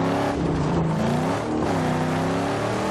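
A car engine in Mad Max, loud and close, revving and droning steadily as the vehicle drives, with a rising and falling pitch and no talk.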